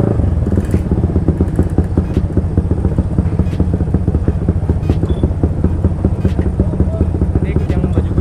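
Motorcycles with racing exhausts, including a Kawasaki ZX636 and a Yamaha Aerox on a group ride, give off a loud, continuous engine rumble with a rough, crackling texture throughout, and people talk over it.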